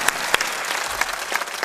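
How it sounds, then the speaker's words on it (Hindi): Hand clapping from a group rattles steadily in quick irregular claps, loud and near, with a few sharper claps standing out and no talk over it. "इसलिए ताली थोड़ा दमदार मारा"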